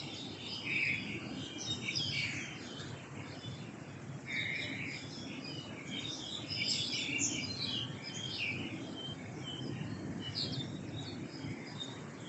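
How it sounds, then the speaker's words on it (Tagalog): Birds chirp and call from the trees of Kowloon Park in Tsim Sha Tsui, Hong Kong, a busy tangle of high tweets at moderate distance over a steady outdoor hiss, with no talking. "Dinig naman na natin guys yung mga tunog ng mga huni ng mga ibon."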